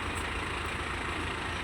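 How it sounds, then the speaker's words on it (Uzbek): A Belarus tractor engine idles while tractors are being loaded, a steady low rumble that holds without change throughout, loud and close, with no talk. "traktorlarni yuklayapti."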